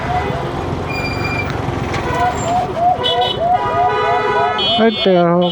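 An ambulance siren wails with rising and falling tones through congested road traffic, rising over steady engine rumble and growing louder and nearer toward the end.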